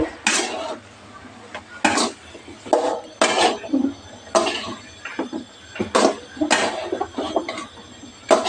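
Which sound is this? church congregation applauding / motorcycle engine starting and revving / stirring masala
stirring masala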